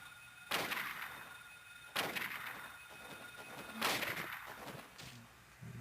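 Pistol gunshots in the horror video game Silent Hill, four sharp reports spaced a couple of seconds apart, each with a short decaying tail over a quiet background.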